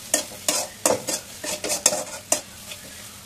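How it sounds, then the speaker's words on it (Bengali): Onions and garlic frying in a pan with turmeric and chili powder, stirred by a utensil: about eight quick, sharp scraping strokes in an uneven rhythm over a faint sizzle, close and alone. "আমার পেঁয়াজ রসুনগুলো ভাজা ভাজা হচ্ছে।"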